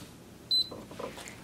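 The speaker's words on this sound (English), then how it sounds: "Hear the little beep, that means that it's on." A single short, high electronic power-on beep from a Levoit essential oil diffuser, quiet and clean, against a soft background hum.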